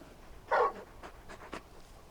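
Torgal, the large dog from the Final Fantasy XVI game, panting close by in a few quick breathy puffs, starting with a louder huff and then quieter rhythmic breaths.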